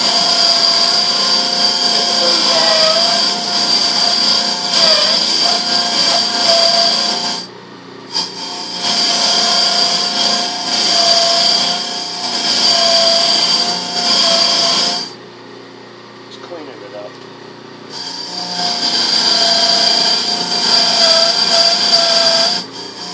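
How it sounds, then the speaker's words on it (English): A metal part pressed against a spinning power wire wheel gives a loud, steady, harsh grinding whir, close up, that breaks off twice briefly before starting again. "Basically taking this across the wire wheel."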